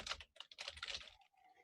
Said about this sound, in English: So I was typing an idea down real quick